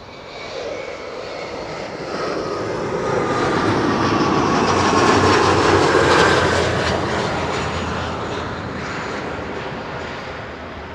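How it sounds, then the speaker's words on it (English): An Embraer 170 airliner landing at Schiphol Airport on a flight in from Warsaw: a broad, steady jet roar that swells to a peak mid-pass and then slowly eases, with no voices. "This is arriving from Warsaw, flight 263, Embraer 170."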